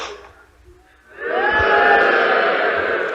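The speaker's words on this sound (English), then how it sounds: "Oh, the crowd goes wild." A football crowd bursts into a wild cheer after a quiet, faint opening, then keeps up a loud, sustained roar of many voices.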